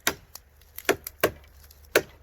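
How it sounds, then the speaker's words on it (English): A leather-handled Steel Warrior Bowie knife chopping into a real tree, with sharp, irregular woody thwacks, four or five strong hits among lighter taps, close up with no talk. "Real chopping on real tree."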